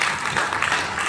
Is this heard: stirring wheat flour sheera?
no